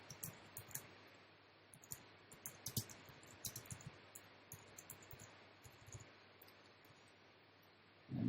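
Light keystrokes typing a subheadline on a computer keyboard, soft irregular clicks in short bursts at a fairly quiet level with a low steady hum beneath, ending in a brief louder thump.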